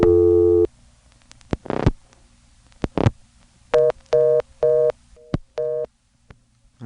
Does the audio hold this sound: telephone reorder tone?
yes